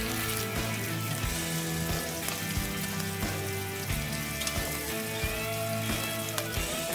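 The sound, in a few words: bacon sizzling on a griddle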